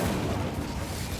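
Incendio fire spell cast in Hogwarts Legacy, a brief, loud whooshing burst of flame with a low booming body that rumbles on for about a second.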